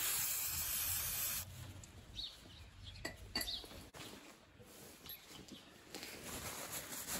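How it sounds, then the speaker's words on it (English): Aerosol brake cleaner sprays onto an oil drain bolt during a 2023 Mazda CX-30 SkyActiv-X service. It gives a loud, steady hiss for about a second and a half, then quieter, scattered hissy bursts and handling noises follow. "Clean the bolt with some brake clean."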